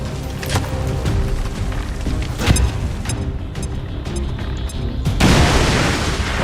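Bomb explosions in the XCOM 2 video game, a series of sharp booms and pops over a low rumbling bed, ending in a louder sustained blast, no speech.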